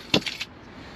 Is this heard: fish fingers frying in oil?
no